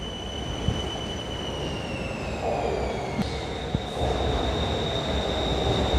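A Bangkok BTS Skytrain pulls into a station, with a steady rail rumble, a high metallic whine easing and rising, and brief clanks as it slows, loud and close with no talk.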